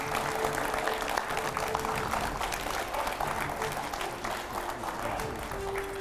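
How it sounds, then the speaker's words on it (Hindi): Studio audience applause on a TV9 Hindi news set as a guest walks in, a steady patter of clapping that sits at moderate loudness under faint background sound for the whole stretch. "टीवी9 के स्टूडियो में आ रहे हैं तालियों के साथ सिनेमा के जाने माने चेहरे अशोक पंडित।"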